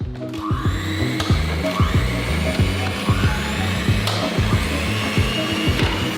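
An electric mixer whipping egg whites in a bowl, a loud continuous motor whir with steady rhythmic beater knocks against the bowl, close and alone with no talk.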